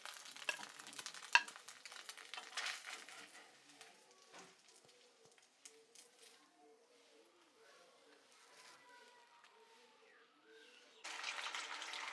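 Bengali-style semolina momos stuffed with potato and paneer fry in hot oil, a steady soft sizzle with occasional stirring clatter, heard close beneath a person talking.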